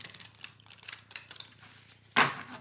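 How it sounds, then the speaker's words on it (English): An oracle card deck with a botanical theme is shuffled: soft ticking and sliding of cards, then one loud, brief riffle near the end, heard close and alone. "Give it a couple of shuffles."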